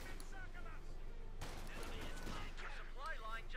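An M36 Jackson tank destroyer fires its main gun in Company of Heroes 2, a sharp broadband blast about midway through, set among ongoing battle noise and game effects with a voice talking throughout.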